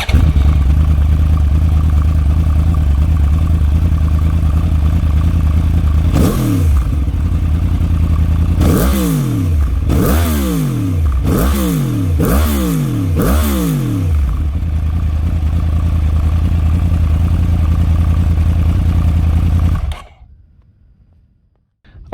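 A 1000cc Yamaha YZF R1 superbike runs at a steady loud idle, then a series of about six sharp throttle blips rise and fall in quick succession before the engine settles and cuts off abruptly at the end.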